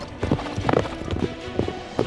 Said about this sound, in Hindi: 4 सैनिकों ने अपने घोड़े पीछे कर लिए।